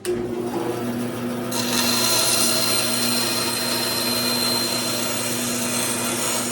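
A power router whines steadily at high speed while cutting a guitar pickguard for a Strat-style guitar, its buzzing hum growing brighter as the bit bites into the material and keeps cutting.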